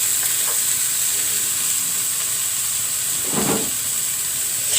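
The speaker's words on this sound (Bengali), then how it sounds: "এবার আমি সবজিগুলো দিয়ে দিব।" Vegetables hitting hot oil in a pan, a loud continuous hiss and sizzle that holds steady throughout, with one brief stirring scrape partway through and no talk.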